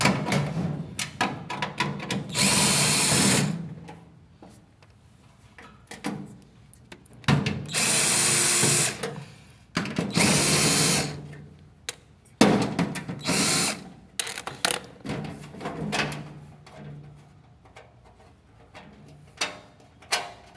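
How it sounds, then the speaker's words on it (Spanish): A power drill loosens screws on a Whirlpool dryer during maintenance, with several loud bursts of whirring a second or two long, separated by quieter clicks and handling noises. "Continuamos soltando todos estos tornillos que vemos aquí para quitar"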